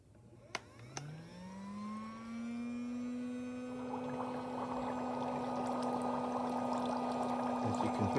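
A Homedics Bubble Spa Elite footbath starts up after a couple of clicks with a steady, loud motorized whir that keeps running, growing fuller with a bubbling, churning texture.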